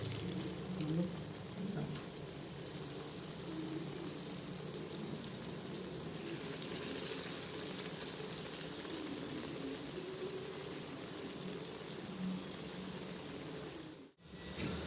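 Bread rolls deep frying in hot oil, a continuous close crackling sizzle with soft bubbling, steady throughout and cut by a brief gap near the end.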